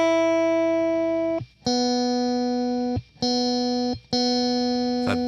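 A single low bass string, tuned a hair flat of C, is plucked repeatedly, each note ringing and sustaining before the next pluck, clear and close with no talking.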